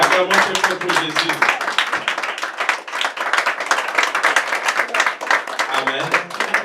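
Church congregation clapping in steady rhythmic applause during a French-language worship service, loud and close, with voices singing or calling out over the clapping.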